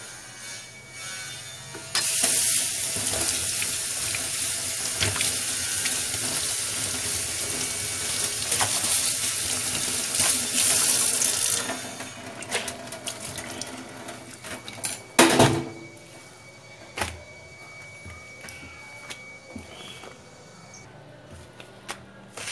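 Tap water pours steadily into a sink to soak an old, worn cloth, a loud continuous rushing stream that lasts about ten seconds before stopping, followed by quieter handling clunks and drips.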